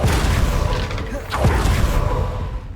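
A Confringo fire spell explodes in the video game Hogwarts Legacy, a deep rumbling boom that swells up and then fades over a low game soundscape.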